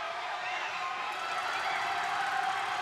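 Crowd at a boys' high school basketball game between Chapel Hill and Center rising into a steady, loud, broad roar of cheering that swells slightly toward the end, with voices mixed in.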